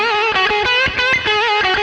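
An electric guitar plays a short phrase through an OCD overdrive pedal, a thick, overdriven tone with extra bottom end, notes ringing with gritty harmonics and steady volume.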